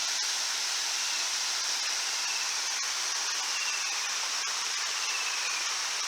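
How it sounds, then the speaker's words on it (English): Steady rushing roar of a waterfall tumbling into a cavern at Boarding House Dam, flowing gently rather than hard; the wash of water is constant and fairly close, with no one talking. "with the waterfall behind you and that."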